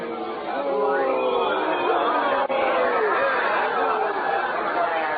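A street crowd in a radio drama clamors and cheers as a mass of overlapping voices, a continuous dense murmur of shouting and chatter at steady loudness, with a muffled, band-limited broadcast quality.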